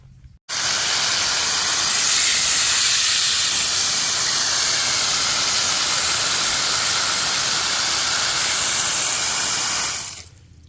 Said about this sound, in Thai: เดี๋ยวเปิดน้ำให้ดูนะคะ กระสูบน้ำจากสระนี้นะคะ